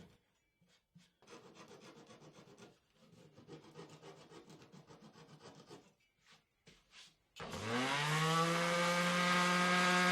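A handsaw cuts wooden pieces off a box clamped in a vise, making steady rasping back-and-forth strokes, close and moderately loud. A louder, droning whine takes over near the end.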